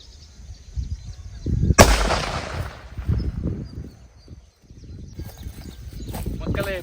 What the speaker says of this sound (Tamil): ஃபஸ்ட்டு வந்து பிள்ளையார் வெடி வைப்போம்